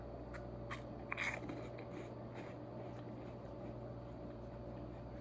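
Freeze-dried candy fruit rings bitten and crunched close up, a few brittle crackling bites near the start, then quieter chewing under a steady background hum.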